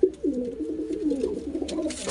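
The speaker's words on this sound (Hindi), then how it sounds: "और ये देखो कबूतर अपने" Pigeons coo softly on a basket and nest where an egg has spoiled, a low continuous warbling murmur close by with no talk over it.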